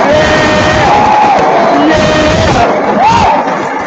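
A crowd cheers and whoops loudly, with shouts and yells rising over a continuous wash of noise and a voice sliding up in pitch near the end.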